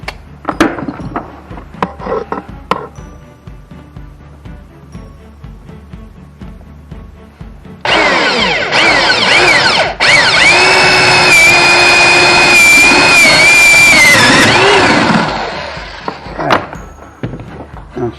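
A power drill bores holes into wood for a carpenter bee house. It starts after scattered knocks and handling thumps, whines loudly and steadily for about seven seconds, then spins down before a few more clunks.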